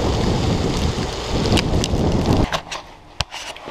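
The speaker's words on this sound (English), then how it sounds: "It's raining." Steady rain pours down outdoors alongside wind noise on the microphone, then thins out into scattered drops and a few sharp taps.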